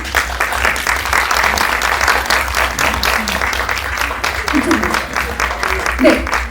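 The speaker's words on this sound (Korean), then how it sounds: "따뜻한 박수로 맞아주시기 바랍니다" A large press screening audience gives warm, sustained applause as a film's cast and director take their seats, a dense, steady wash of clapping that swells slightly near the end, with a low hum beneath.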